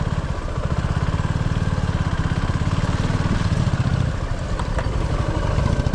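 Motorcycles ride along a muddy mountain road between Manali and Jispa, the steady, loud, throbbing engine drone close by and continuous, with no talk over it.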